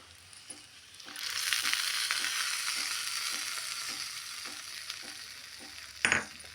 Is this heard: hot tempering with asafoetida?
yes